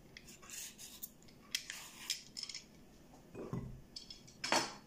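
A knife cuts peeled courgettes into small pieces on a board, giving a quiet, irregular series of taps, scrapes and clinks that are close but faint, with no talking.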